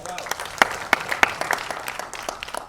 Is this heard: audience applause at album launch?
yes